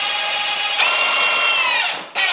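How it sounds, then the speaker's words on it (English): A power drill drives a screw into a window blind bracket in a newly built house, giving a loud steady whir of about two seconds that cuts off abruptly, followed by a brief restart. "Get your actual screw all nice and put on the drill, and then find yourself a hole right here,"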